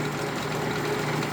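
A low-cost buffing machine shaft spins at high RPM on pillow block bearings, giving a steady whir with a faint hum, continuous and unchanging over a brief moment.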